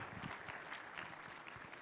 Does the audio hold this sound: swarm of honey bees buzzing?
no